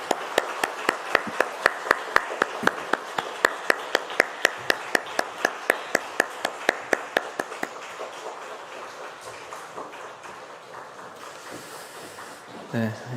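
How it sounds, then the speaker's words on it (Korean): A church congregation at a dawn family prayer service claps together in a steady, even rhythm of sharp, close claps. The clapping gradually loosens and fades into scattered sound near the end, with no talking over it. "다시 한번 뜨겁게 축복의 박수 하겠습니다."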